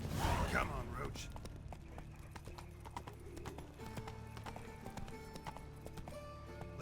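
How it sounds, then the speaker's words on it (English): Horse hooves clip-clopping at a steady pace in The Witcher video game, mixed with game music and ambient sound throughout, with a brief whinny near the start. "Come on, Roach"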